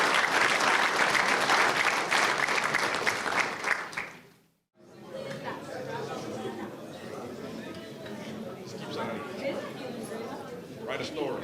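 Audience applause ringing out at a fall 2023 high school signing day, a dense sustained clapping that briefly dies away near the middle, then resumes more loosely with crowd chatter mixed in.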